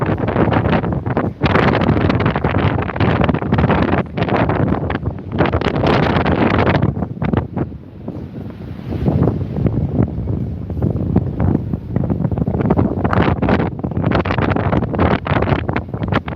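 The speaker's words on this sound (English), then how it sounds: "that is some harsh wind" Harsh wind gusts outdoors on the coast at Benidorm, buffeting the microphone in loud, continuous roaring bursts with one brief lull midway. No voices are heard.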